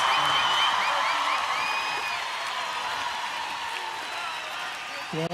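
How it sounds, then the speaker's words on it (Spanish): A festival crowd at the Río Gallegos 139th anniversary celebration cheers and applauds, with steady dense roar, whistles and shouted whoops sustained throughout at fairly close range. "¡Que se escuchen los aplausos y los gritos!"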